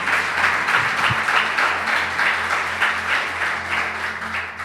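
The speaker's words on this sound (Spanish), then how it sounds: "Dale ese aplauso más fuerte al Señor." Congregation applauding in church during a sermon, a sustained, fairly loud wash of many hands clapping with no one speaking over it.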